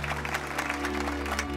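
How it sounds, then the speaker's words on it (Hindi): Schoolchildren clapping in a classroom, a brief lively patter of many small hands over a steady low hum. "चलो ताली बजाओ।"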